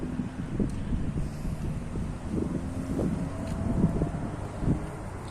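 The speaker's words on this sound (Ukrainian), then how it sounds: "Діти, що це? Так, це вітер. Давайте його послухаємо." Low, rumbling wind buffets the microphone outdoors, steady and moderately loud, with faint background noise and no talking.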